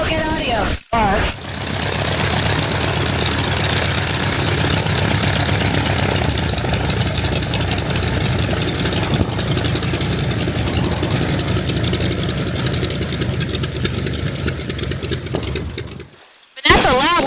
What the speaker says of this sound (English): that's a loud little engine